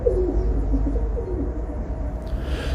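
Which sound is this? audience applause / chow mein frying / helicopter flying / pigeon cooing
pigeon cooing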